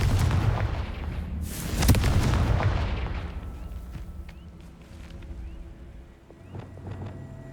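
A Confringo blasting curse in the Hogwarts Legacy video game bursts with a loud explosive boom near two seconds, then trails off into a rumbling decay with faint magical tones afterward.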